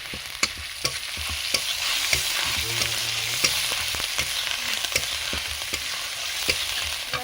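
Ground cumin paste fries in hot oil for a rohu fish curry, a constant close crackling sizzle punctuated by regular taps and scrapes of a stirring spatula against the pan.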